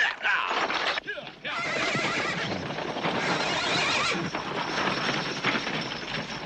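Horses pulling a wagon whinny loudly near the start, with a continuous noisy rumble of hooves and movement throughout and a voice talking over it.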